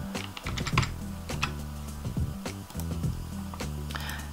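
Fingers tap quickly across a computer keyboard up close, an uneven run of crisp clicking keystrokes with short pauses between bursts and no voice.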